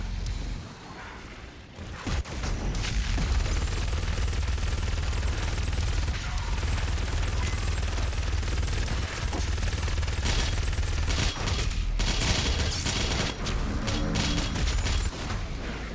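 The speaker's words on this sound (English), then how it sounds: "I love the super shotgun so much." A super shotgun fires repeatedly in the video game Doom: The Dark Ages, loud close blasts punctuating dense, continuous combat noise with crashes and mechanical clatter.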